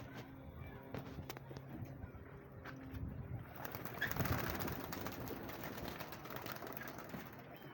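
Soft, low cooing from pigeons amid outdoor background noise, with a few faint rustles and scattered bird sounds throughout.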